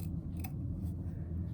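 Scissors snipping through layered fabric for a Kimberbell chenille embroidery project, a couple of faint, brief clicks over a steady low room hum.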